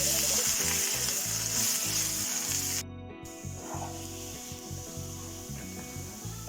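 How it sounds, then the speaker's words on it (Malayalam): Curry leaves and garlic fry in hot oil for kovakka fry, a bright, loud sizzle up close that continues steadily after a brief cut. "ഇനി നമുക്ക് കറിവേപ്പിലയും വെളുത്തുള്ളിയും കേട്ടോ അത് വേഗം ഒന്ന് ഫ്രൈ ചെയ്തെടുക്കാം"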